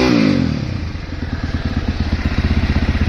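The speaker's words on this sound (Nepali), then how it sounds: "इन्जिन तातिसक्यो है गाइस इन्जिन तातेपछि मजाले स्टार्ट हुन्छ" A dirt bike engine settles into a steady idle after being started following a long period of disuse, its fast even putter thumping close and clear, with no talking.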